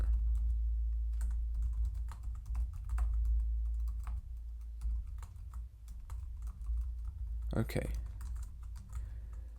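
Computer keyboard typing C code, a close, continuous patter of key clicks with a few heavier strokes near the end, while a person speaks briefly.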